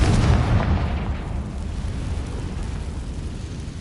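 A Confringo fire spell bursting in the Hogwarts Legacy video game: a loud booming blast at the start that rolls off into a long rumbling decay, with no voices.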